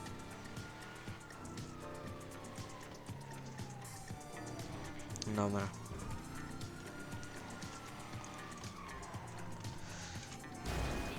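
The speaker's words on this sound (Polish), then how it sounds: "Jak zauważyliście, mnie policja już ściga." A Vapid Slamvan in GTA V races through a police chase with loud, sustained engine roar and sharp tire squeals, while a siren wails in the background; a single word is spoken briefly.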